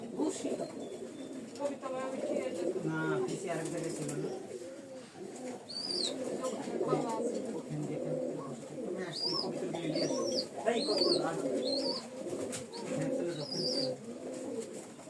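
A courting pair of pigeons cooing nearby, with repeated low throaty coos and a few higher chirps over soft, steady background noise.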